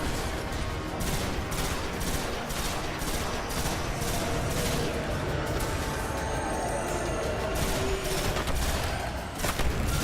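Rapid rifle fire in the video game Destiny, a steady barrage of repeated shots with dense, continuous bursts throughout, loud and close without pauses.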